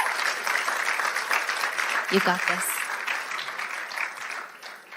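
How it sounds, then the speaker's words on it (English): Applause from a gathered audience fills the space, a continuous clapping texture with a voice speaking over it partway through. "Come on, you guys, give her just a hand of applause"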